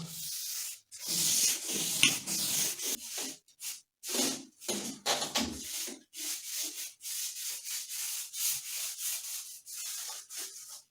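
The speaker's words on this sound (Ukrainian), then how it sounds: "клей повилазив трошки. А ми його отак стираємо." Excess glue is wiped off ceiling molding in a bathroom, heard as a close series of short rubbing and scraping strokes with brief pauses between them and no voices.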